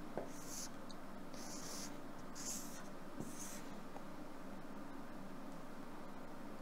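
A pen scratching across paper in a quiet room while a pointed shape is drawn, with four or five short bursts of stroke noise over a steady background hiss and no talking.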